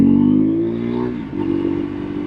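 A Husqvarna Svartpilen 401 single-cylinder motorcycle engine revs up close and loud, its steady throttle note dipping briefly and climbing again.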